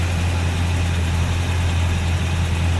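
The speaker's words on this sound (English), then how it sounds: "And nice and smooth this old V8 is running." A 1971 Oldsmobile Cutlass Supreme convertible's old V8 idles smoothly with a steady, deep low rumble, close and continuous for the whole stretch, no voices over it.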